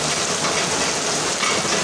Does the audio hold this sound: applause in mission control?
no